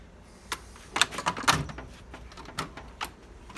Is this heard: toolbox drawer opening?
yes